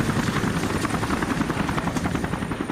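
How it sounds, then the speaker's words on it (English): Apache helicopters fly security overhead, a loud continuous rotor thrum with a fast, steady pulsing beat and a faint high whine, with no other sounds. "they have the Apache helicopters flying security"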